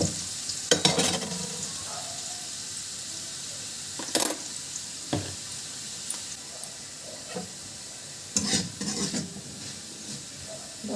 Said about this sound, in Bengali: লাল লাল হয়ে আলু ভাজা হয়ে গেল